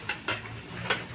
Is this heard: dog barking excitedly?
no